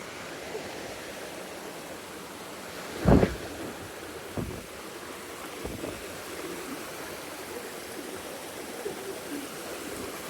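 A mountain torrent gives a steady, broad rushing wash at moderate distance, with a couple of brief dull thumps partway through.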